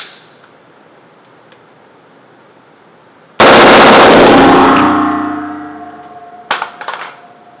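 An AR-15 rifle fitted with a CAA Arms 30-round magazine made in Israel fires one loud, sudden shot outdoors, followed by a long fading echo and then a brief metallic clatter.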